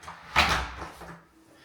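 An interior door swings open and shuts, a brief creak and thump followed by a softer fading rattle, close by and alone.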